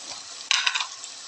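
Turmeric, chili powder, cumin and salt frying in oil for egg curry, stirred in the pan: a steady close sizzle with a few sharper scraping stirs, no voices.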